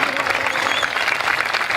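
An audience at a Sri Rama Katha gathering in Solapur claps steadily, a dense and fairly loud wash of applause with a hint of crowd noise.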